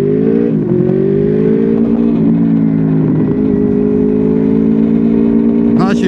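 A 2012 Honda Crossrunner 800 V4 motorcycle engine rumbles steadily up close, loud and throaty with a smooth, even tone and a brief sharper rise near the end.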